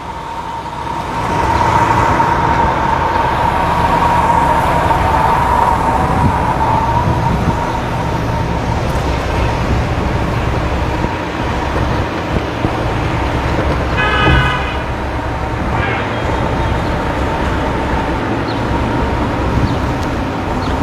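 A used 1994 model car driven along a road, its engine a steady hum while traffic noise and a passing horn or siren toot rise briefly midway.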